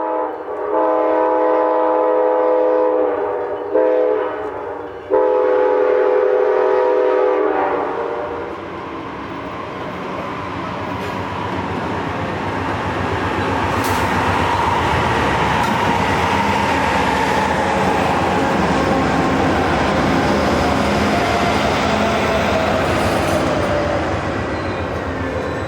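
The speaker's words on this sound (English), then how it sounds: "Amtrak 350 was arriving at Jackson Station" An Amtrak passenger train hauling four Superliner coaches arrives at Jackson Station in snowy weather in Michigan. It opens with a loud, sustained horn blast in several bursts, then gives way to a swelling, rumbling roar of the rolling train nearby.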